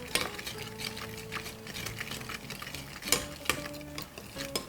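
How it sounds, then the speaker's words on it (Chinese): A sauce of aged vinegar, minced garlic, chopped scallion and chili oil is stirred in a bowl: close, quiet, rhythmic scraping and clinking strokes, with a few sharper knocks of the utensil against the bowl. "好，我们给它搅拌均匀。"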